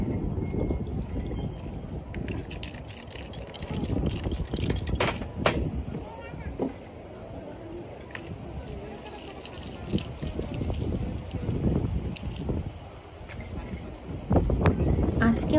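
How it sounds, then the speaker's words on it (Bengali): Strong gusty wind sweeps across an outdoor children's play area and kicks up dust. It roars steadily into the microphone as a deep, rumbling buffet, with voices and scattered clatter underneath. "আজকে অনেক বাতাস আর বাতাসে ধুলা উঠছে"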